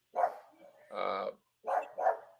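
A dog barks in a short series of sharp, nearby barks with a longer rougher bark in the middle, heard alone in brief bursts separated by silence.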